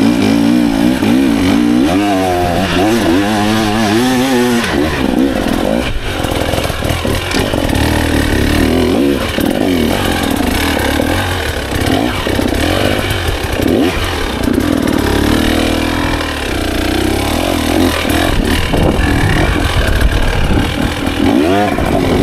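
A 2024 KTM EXC 300 TBI two-stroke dirt bike engine, loud and close throughout, revving up and down repeatedly with rising and falling pitch while riding, never settling to idle.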